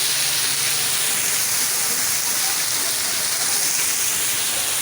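Waterfall spray pouring down like heavy rain at a canal-side spot, a steady, dense hiss of falling water that fills the scene evenly from start to finish, with no voices over it.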